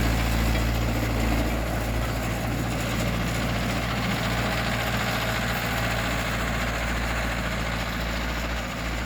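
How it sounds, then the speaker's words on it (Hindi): A Mahindra 585 tractor engine runs steadily in a field of hard soil, a loud continuous low diesel drone with heavy vibration that stays even throughout, no voices. "ट्रैक्टर किस गियर में चल रहा है"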